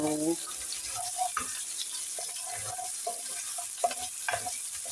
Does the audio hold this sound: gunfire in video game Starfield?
no